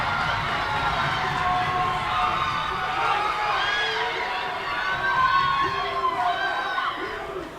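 A club hockey crowd at a college Rec Center cheers loudly and continuously during an Arizona State at Colorado game, with a dense roar of many voices and shouts rising and falling.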